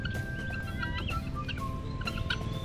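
A turkey gobbles amid chickens and other barnyard fowl clucking and calling at Tayabo Nature Park, a busy layered chorus of bird sounds with steady background noise.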